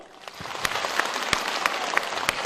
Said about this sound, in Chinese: 我们先用热烈的掌声预祝全体演员演出成功